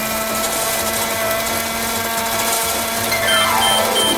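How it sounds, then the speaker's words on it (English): A toy magic microwave runs after its buttons are pressed, giving a steady, loud electronic whirring hum from close by that holds evenly and ends with a brief sweeping tone. "We'll put Zuma in the magic microwave and press the magic buttons."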